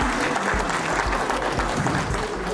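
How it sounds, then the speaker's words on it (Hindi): Sustained applause from an audience at an award ceremony honoring teachers and doctors in Kurukshetra: dense, even clapping from many hands, fairly loud and continuous without a break. "आप जोरदार ताली इनके लिए जरूर बजाएं।"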